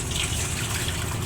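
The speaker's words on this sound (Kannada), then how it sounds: "ನೀರು ಹಾಕೊಂಡು ಹಿಂಗೆ ಜಾಲಿಸ್ಬಿಟ್ಟು" Water is poured in and swirled to rinse soil out, making a brief, close gush of sloshing liquid with no voices.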